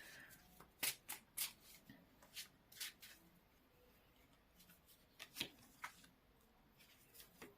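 Tarot cards are riffled and shuffled in several quick, crisp bursts, close up and otherwise quiet.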